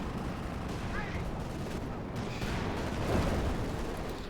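Continuous battle noise in Company of Heroes 2, with dense rattling gunfire and rumbling blasts at moderate loudness. A commentator talks over it.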